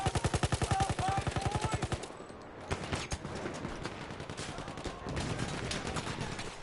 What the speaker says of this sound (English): Oh, bullets flying.